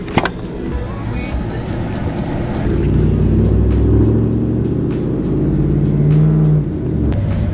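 A Ford pickup truck rolls along the road, its engine rumbling steadily and growing louder and heavier partway through, with continuous low drone and road noise and no talking.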